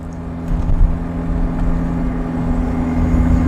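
Tofaş Şahin car cruising on a long road trip, a steady low engine drone and road rumble filling the interior at constant loudness, with no talk.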